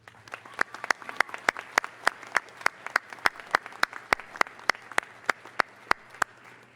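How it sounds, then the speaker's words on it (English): Applause from a spring 2019 university commencement audience, with sharp, evenly spaced nearby claps standing out over a softer wash of clapping throughout. "please give the parents, families, and friends gathered here today a round of applause"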